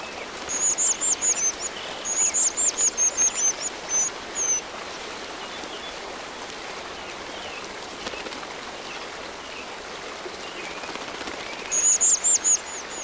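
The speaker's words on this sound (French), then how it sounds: "La bergeronnette des ruisseaux, elle, chasse à la surface de l'eau où elle surprend les insectes." A grey wagtail hunts insects over a mountain stream in the Alps, giving quick bursts of sharp, high chirps near the start and again at the end above the constant rush of running water.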